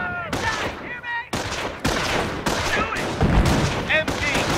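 Gunfire in a Company of Heroes World War II battle, rapid bursts of rifle and machine-gun fire in close succession, loud and near, mixed with shouted unit voice lines and whistling effects.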